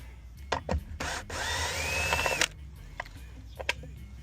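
Metal tool work on a 2025 Ford F-250 while bolts already broken loose with a wrench are backed out, giving a run of close clicks and scraping taps, one sustained whirring stretch, then scattered knocks.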